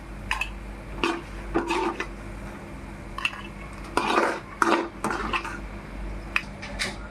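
Chopped tomatoes stirred in a metal cooking pan, with a spoon scraping and clinking against the sides in irregular bursts, close up, with no talking.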